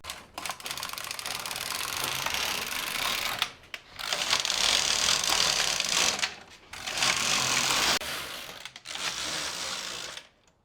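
A knitting machine carriage sweeps back and forth across the needle bed at tension 6, knitting sweater rows: four long, loud, close mechanical rasping passes, each a couple of seconds, separated by short pauses.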